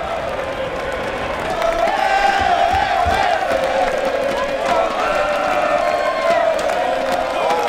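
Stadium crowd at BMO Field during a Canada versus United States soccer match, a dense continuous roar of many voices with shouts and cheers swelling slightly after the first couple of seconds and holding steady.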